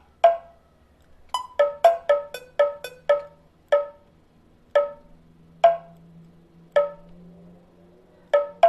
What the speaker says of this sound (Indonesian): Misalnya ini suara kulanternya.